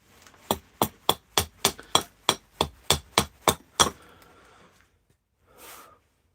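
An axe makes relief cuts in the base of a large bowl blank of fresh green willow, giving about twelve sharp, evenly spaced chops close up, then a pause and a brief softer scrape.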